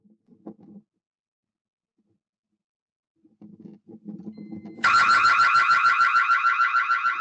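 After some faint muffled knocking and rustling, a loud electronic property alarm suddenly blares during a motorbike theft, with a rapid warbling, pulsing tone that keeps going.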